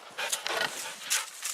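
Two dogs, Barry and Opie, pant and snuffle close by in short, breathy bursts, a soft whimpering edge between breaths, fairly quiet and alone.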